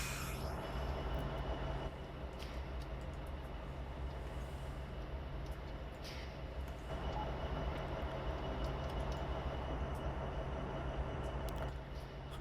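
GE Evolution (GEVO) diesel locomotive running in Train Sim 2022, a continuous low engine drone and rolling rumble with steady hum and faint high squeals, quiet and unbroken throughout.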